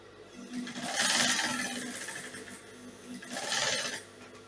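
A sewing machine stitches an elastic waist onto a dress in two bursts of steady whirring, near and moderately loud, with a brief lull between runs and no talk.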